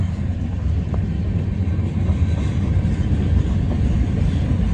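A grain freight train led by a war bonnet locomotive rumbles past, a continuous heavy low roar with steady rolling noise and no voices over it.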